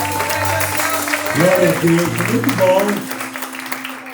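Church congregation at a Sunday celebration service applauds, clapping rising under a voice speaking and singing out in Portuguese, steady and moderately loud throughout.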